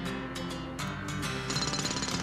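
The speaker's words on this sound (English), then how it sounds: "Because his drill can pierce the heavens." Mechanical drilling effect from the video game Scribblenauts, a steady rattling, hammering buzz that swells louder near the end, heard alone without talk.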